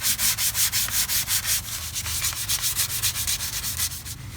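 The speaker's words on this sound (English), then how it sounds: "Okay, so I've got some sandpaper. We'll try that first and just see how clean we can get it." Sandpaper scrubs rust off Mercedes-Benz ML320 front brake hardware in quick, rhythmic back-and-forth strokes, close and loud with no talk.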